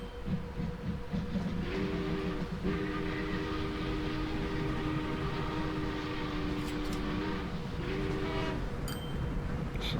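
A train in the Train Fever simulation game rolls along with a steady rumble and clatter, its horn sounding in two long blasts, loud and close with no talking.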